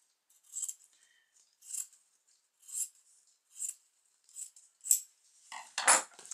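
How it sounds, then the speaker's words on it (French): Scissors snip away excess paper or card while finishing a handmade shabby-style album, giving about seven crisp, close cuts at a steady pace with a longer rasping cut at the end, and no voices. "Je vais juste couper un peu l'excédent."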